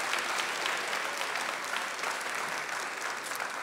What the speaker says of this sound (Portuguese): Pode aplaudir vocês aí